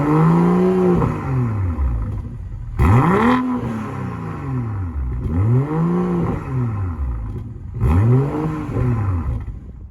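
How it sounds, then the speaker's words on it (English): A 2021 BMW M440i's 3-liter inline-six engine revving repeatedly, rising and falling in pitch with each blip of the throttle, loud and close with no one speaking. "I want to show you guys what the 3-liter inline 6 sounds like"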